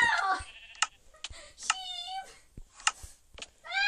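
Sheep in Minecraft Pocket Edition give several short, separate bleats in quick succession, loud and close, with brief gaps between them and no talk over them.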